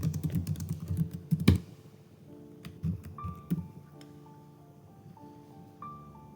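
Quick computer keyboard typing, a brisk run of close key clicks followed by a few scattered taps, with soft background music underneath.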